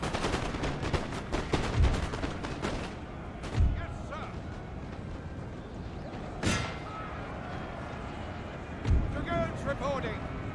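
Musket volleys crackle across a Napoleon: Total War battlefield, with several sharp, loud shot bursts standing out over a constant rumble of massed gunfire and battle din, talk heard over the fighting.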